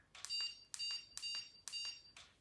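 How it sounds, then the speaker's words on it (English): A remote dog training collar gives four short, bright electronic beeps at a steady, even pace, clear and close against a quiet background. "You press that button, and it's going to send a beep on your dog's collar right next to their ear."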